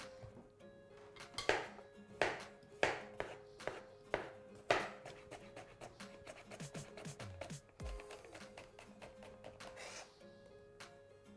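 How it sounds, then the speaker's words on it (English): A knife chops cucumber into small cubes on a board: crisp, close, irregular knocks that come in a quicker run and then thin out, with faint kitchen clatter and no voices. "we need just a cucumber chopped in small cubics"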